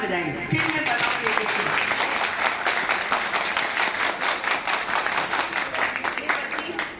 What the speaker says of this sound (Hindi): इसके लिए सबसे जोरदार ताली बजाएंगे